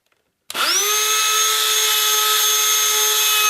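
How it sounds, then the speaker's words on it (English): After a moment of silence a trim router switches on and spins up in a fraction of a second to a loud, steady, high-pitched whine that holds unchanged to the end. "I'll drop the router by another 5 or 6 mil. I'll turn it on."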